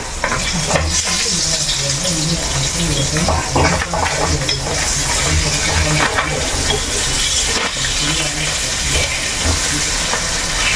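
Sardines fry in hot oil in a pan with a dense, steady sizzle and hiss throughout, loud and close, broken by occasional light pops and stirring.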